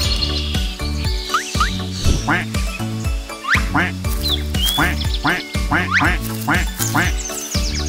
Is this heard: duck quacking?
yes